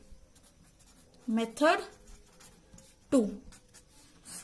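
A marker or pen scratches out short strokes on a board during a chemistry lecture, with a few brief squeaky bursts separated by quiet pauses.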